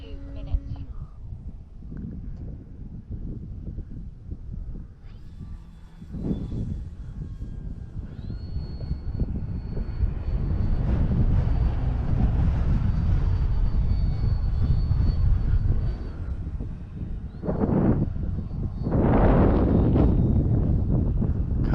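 An OMP Hobby Super Decathlon RC model airplane flies in gusty wind, its engine droning and rising into loud whining passes, with wind buffeting the microphone and someone talking at times.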